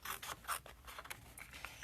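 Paper being cut out for a stamping craft, heard as soft, close rasping snips and rubbing that come in quiet, irregular bursts with no talking.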